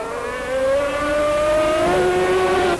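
A 1992 Formula 1 race car screams past at high revs, its loud, steady engine whine climbing slightly before a brief shift and cut-off near the end, with no talk.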